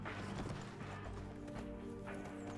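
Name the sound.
footsteps in a video game (Cataclysm: Dark Days Ahead)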